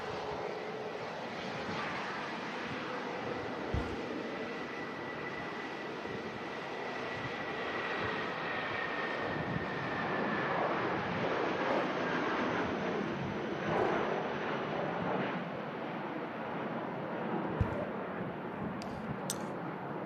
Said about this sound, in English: Amazing departure there. British Airways heading back to London Heathrow.